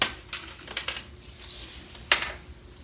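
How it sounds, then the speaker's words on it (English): A casserole dish being handled in a home kitchen, giving a few light clinks and knocks spread unevenly, with one sharper clatter near the end and no talking. "let me get my casserole dish here"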